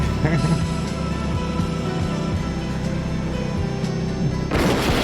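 Gunfire in the 1979 horror film Phantasm as shots take out a car tire: a dense, rumbling barrage of blasts over a continuous heavy noise bed, ending in a louder burst.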